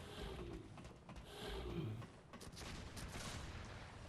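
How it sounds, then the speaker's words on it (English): Enemies fire guns in Bloodborne, a video game, with repeated bursts of gunfire over a dense, steady background of game noise. "there's guys up there shooting at me"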